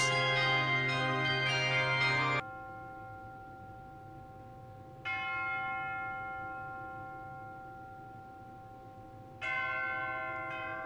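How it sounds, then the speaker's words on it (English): Church bells of Notre-Dame de Paris toll in long ringing strikes, three distinct peals with sustained decaying hum between them, loud and resonant with no voices. "to the tolling of the bells, bells, bells"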